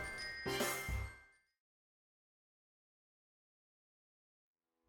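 A Salvation Army charity bell rings in a short, bright jangling burst lasting about a second, then falls away into silence.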